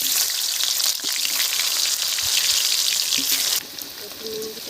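Potatoes dropped into hot oil sizzle and crackle in a pan, a bright steady frying hiss that eases a little toward the end, with faint clinks of utensils.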